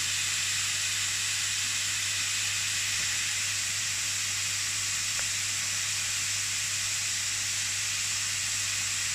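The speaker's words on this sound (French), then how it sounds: "Brocoli, tout ça, ça est en train de cuire. Avec le gingembre, l'ail." Broccoli, ginger and garlic sizzle in a wok during stir-frying as a steady, fairly quiet hiss with a low hum underneath. A single faint tick sounds partway through.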